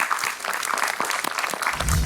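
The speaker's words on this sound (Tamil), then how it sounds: "எல்லாரும் ஒரு கைத்தட்டல் கொடுத்துருங்க." Audience on a children's game show claps in a short burst of brisk, scattered applause lasting about two seconds, with a low thump near the end.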